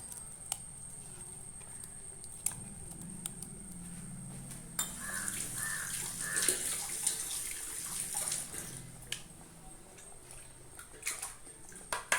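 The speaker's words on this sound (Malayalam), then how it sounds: "ഇതിലേക്ക് ആവശ്യമായിട്ടുള്ള വെള്ളവും കൂടെ ചേർത്ത് കൊടുക്കാം" Water poured into a cooking pot in a home kitchen: a low rushing trickle that grows into a fuller, splashing pour midway, with a few drips and knocks, fairly quiet and without talk.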